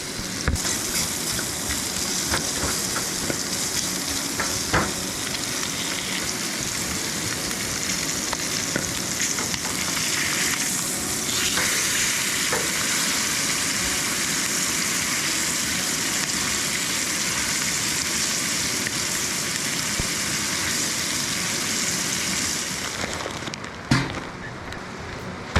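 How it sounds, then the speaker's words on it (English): Spam sizzling in butter on an iron skillet at a campsite, a loud continuous crackle and hiss of frying fat with occasional pops and scraping, nearby and steady throughout. "Butter down to lubricate for the spam on our iron skillet here."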